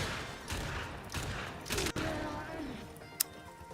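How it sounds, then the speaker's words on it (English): Gunshots from a Pyrana weapon build in a video game sound as a few scattered, fairly faint sharp bursts spread over several seconds against low background noise. "Was that 3 shots? I believe there's 3 shots there."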